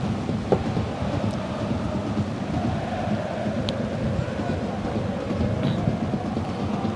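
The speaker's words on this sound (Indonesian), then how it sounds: "Hujan kembali mengguyur di stadion di sore hari ini" Steady rain pours down on an outdoor football stadium during an afternoon match at Kediri Soccer Field, a dense, continuous wash of broadband noise with a low rumbling undertone that stays even for the whole stretch, with no talk.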